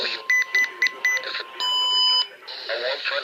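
NOAA Weather Radio warning alarm tone during a weekly test broadcast, with short stuttering beeps, then a steady sustained tone before it cuts out and a voice resumes.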